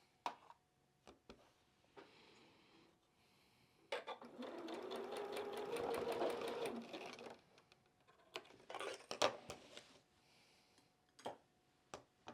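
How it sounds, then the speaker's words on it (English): A sewing machine stitching quilt pieces together in short runs, with one sustained burst in the middle and a few briefer whirs later, among soft clicks and handling noises. "we're going to sew these together"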